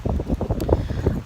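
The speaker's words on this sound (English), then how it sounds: "Sorry guys, it's really windy, so hope you can hear me." Gusty wind buffeting a microphone outdoors, a low rumbling roar that surges and dips unevenly through the whole short stretch.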